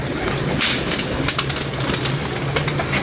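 Pigeons coo in a steady low murmur at a loft, a continuous droning hum under a broad hiss, with a brief louder rustle near the start.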